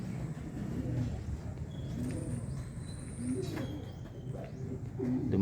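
Racing pigeons return home during a derby in Aparri, Cagayan, with soft cooing and bird calls over a constant outdoor rumble and passing traffic.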